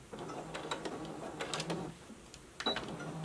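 A sewing machine back-stitches along a ruffle tier on a dress or skirt, a close, rapid mechanical whirring and ticking that runs in short bursts with slight pauses, with no talking.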